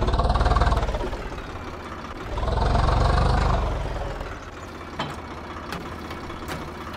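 A tractor engine idles in the Farming Simulator 22 game with an Indian mod and a sugarcane trolley, a steady low mechanical drone that swells briefly and then settles, with a few faint clicks near the end and no speech.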